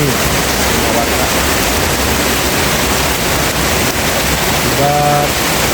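Heavy rain and strong wind roar in a steady, dense wash of noise during a storm that toppled trees in a village, with a faint voice briefly under it near the end.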